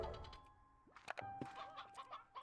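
Chickens in the video game Slime Rancher 2 give short, quiet clucks and squawks, several overlapping bursts heard faintly with no talking.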